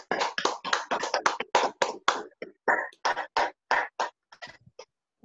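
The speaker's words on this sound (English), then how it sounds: "So let us have a huge round of applause." Only a few people clap at a joint online meeting of the Chennai Wordsmiths and Ibero Puebla Toastmasters clubs, a thin, uneven run of separate claps in short bursts with brief gaps, fairly faint.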